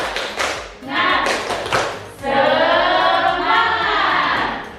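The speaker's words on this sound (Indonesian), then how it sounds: "Tepuk semangat" Classroom students doing a rhythmic spirit clap, a few sharp patterned claps and taps, followed by a group of children shouting together loudly at close range.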